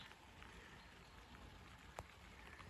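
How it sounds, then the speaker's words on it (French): Rain beginning to fall during an unstable evening shower under dark cloud bases, a steady soft patter of drops spread evenly and faint, with one brief louder tap near the end and no voices. "Ça y est, il se met à pleuvoir là."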